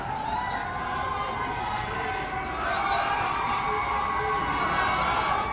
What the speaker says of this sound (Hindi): बहुत सारे लोग आ गए, बहुत भीड़ है, बहुत अच्छी बात है।